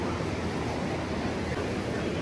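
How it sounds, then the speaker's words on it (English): Ocean surf at night heard from a hotel balcony at a Panama City Beach resort, a steady broadband wash of waves and wind without distinct breaks, moderately loud and continuous with no talking. "It's a view from the balcony at night, and you can hear the waves."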